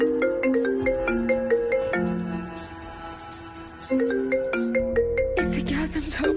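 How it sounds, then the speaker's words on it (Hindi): A melodic phone ringtone plays clearly, a repeating electronic tune with a brief pause midway before it starts again. "अंकु का फोन आया, उठाओ फोन"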